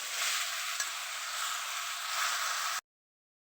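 Potatoes frying with salt in a pan while being stirred, a steady close sizzle with faint scraping that runs for a few seconds and then cuts off abruptly.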